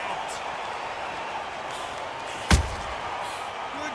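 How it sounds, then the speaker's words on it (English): A counter punch lands in a boxing video game bout, a single sharp thud over steady crowd ambience, with commentary talk around it. "Good counter punch."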